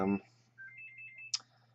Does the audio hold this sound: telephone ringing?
yes